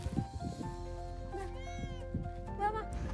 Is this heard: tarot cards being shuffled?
no